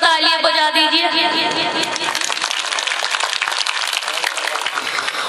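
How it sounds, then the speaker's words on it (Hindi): A crowd at a mushaira poetry gathering breaks into loud, sustained applause, many hands clapping together. Someone speaks just before the clapping swells and fills the rest. "एक जोरदार तालियां बजा दीजिए"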